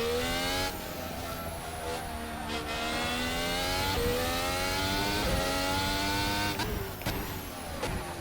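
Formula 1 race car lapping Interlagos in a video game, its engine a loud continuous high-pitched scream rising and falling through upshifts and braking downshifts, with brief tyre squeal, no talk.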